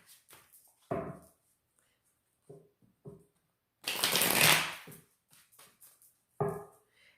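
Tarot cards are shuffled up close: scattered light taps and short riffles, then one long, loud burst of dense shuffling, followed by a few more soft card snaps.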